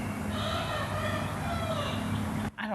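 Backyard flock of hens and roosters clucking and crowing continuously at close range, a dense overlapping chorus of bird calls that cuts off abruptly near the end.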